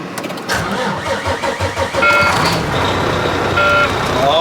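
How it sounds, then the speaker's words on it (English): Heavy duty truck starting up, its engine rumbling close and loud, with a steady electronic tone of a low air pressure alarm sounding over the idle in repeated stretches. "So the alarm is that the truck has low air pressure"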